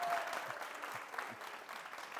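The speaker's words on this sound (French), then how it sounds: "Beaucoup d'applaudissements pour elle." Studio audience of a Burkinabè TV game show applauds a contestant, steady moderate clapping from a crowd heard at some distance, fairly soft throughout.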